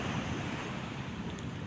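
Sea waves wash steadily in a continuous rushing surf, moderately loud, with wind noise mixed in and no talking.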